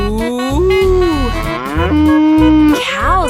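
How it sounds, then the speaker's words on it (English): Cow mooing on a farm, a long, loud, close moo that rises and holds, followed by a second drawn-out call over a steady rhythmic backing. "This is the cow."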